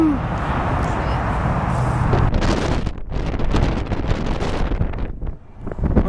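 Strong gusts buffet the microphone outdoors near an Atlanta airport under a wind advisory, a loud continuous low rumble that surges and dips throughout, with a brief lull near the end.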